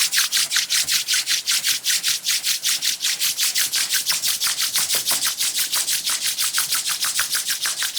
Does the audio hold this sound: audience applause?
no